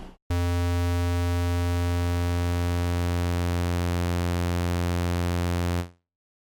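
A synthesizer holds one sustained buzzing tone for about five and a half seconds, its waveform morphing among pulse, square and saw shapes while the pitch stays fixed, then it cuts off cleanly.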